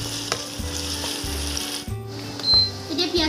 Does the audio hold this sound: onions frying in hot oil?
yes